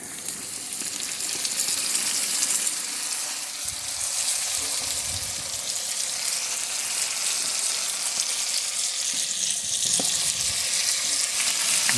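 Peppers and tomatoes frying in a bograch pot while being stirred: a steady, loud, close hiss and sizzle throughout, with occasional soft scrapes from the stirring.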